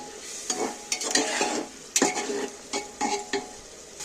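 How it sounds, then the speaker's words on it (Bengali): Spice masala with onions and a splash of water being sautéed in a pressure cooker for an egg curry, a steady sizzle broken by repeated scraping stirs of a spoon against the metal, close and fairly loud. "এবার আমি ভালো করে কষিয়ে নেব যাতে না কাঁচা গন্ধটা ছাড়ে।"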